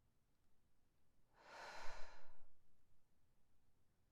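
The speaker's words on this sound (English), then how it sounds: "if you can invite a deep breath, maybe just another deep breath" A single slow, deep breath, close and soft, rises and falls over about a second and a half against quiet background hiss.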